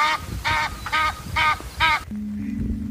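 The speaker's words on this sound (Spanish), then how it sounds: "este sonido que os pongo ahora es el sonido del ganso del Nilo" An Egyptian goose (Nile goose) gives five loud, evenly spaced nasal honks at close range. The calls then stop abruptly, leaving a quieter low hum.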